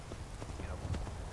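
Horse hooves clopping in Skyrim, a quick run of footfalls with a faint whinny-like tone, heard alone at moderate level.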